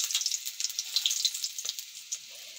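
Garlic cloves fry in hot oil with a close, steady crackle, small pops breaking through the sizzle as it slowly eases off, and no voices.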